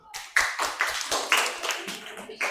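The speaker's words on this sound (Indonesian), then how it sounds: "Tepuk tangan buat kita semua." A classroom group claps together in quick, loud rhythmic bursts of about seven or eight patterned claps, close by.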